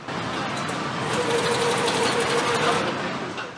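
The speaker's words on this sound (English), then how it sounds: "Last parts are mounted and the engine is started for the first time." Engine of a new 2024 BMW 5 Series running for the first time at the Dingolfing factory in Germany, a steady mechanical hum amid busy assembly-line clatter and whirring that swells slightly and then eases.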